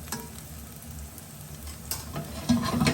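Lentil and beetroot farinata pancakes fry gently over low heat in a pan, giving a soft sizzle with scrapes and a clatter as they are flipped, growing busier near the end.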